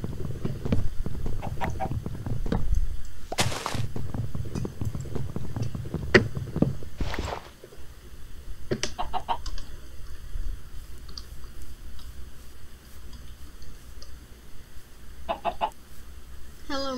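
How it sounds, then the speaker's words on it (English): Chickens cluck in the Minecraft video game, with soft, scattered clucks over a low steady background and sharp clicks and thuds now and then. "Hello, Mr. Chicken."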